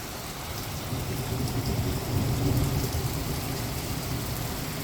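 A supercell thunderstorm over Richmond Heights in August brings a steady, heavy roar of rain with a low thunder rumble swelling and fading beneath it, with no voices.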